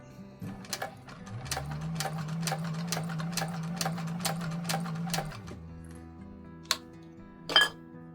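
A sewing machine stitches a handbag exterior in a quick, steady run of needle clicks over a motor hum for several seconds, then stops, followed by a couple of isolated clinks.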